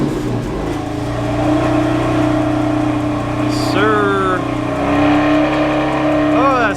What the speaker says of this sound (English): Let's go ahead and fire the car up and make sure the key works.